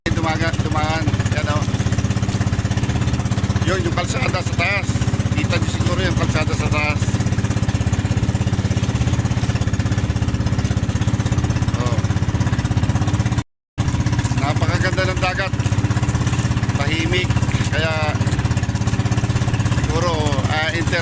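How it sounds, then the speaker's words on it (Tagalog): A motorboat engine runs at sea en route to Occidental, a loud, constant chugging drone with voices talking over it intermittently and a brief cut partway through. "Rinig nyo ang umong ng motor yan, nakasakay kami sa kwansa lang sa motorboat."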